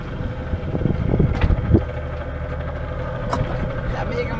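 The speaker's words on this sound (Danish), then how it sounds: "Der er mega meget vind." Strong wind gusts over a sailboat on an Atlantic crossing from Bermuda to the Azores, buffeting the microphone as a loud rough rumble with occasional knocks, while voices talk intermittently.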